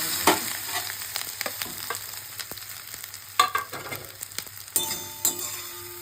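Dhokla pieces are stirred through a sizzling sesame seed tempering, with irregular scraping and tapping of a spoon against the pan over a soft, steady sizzle.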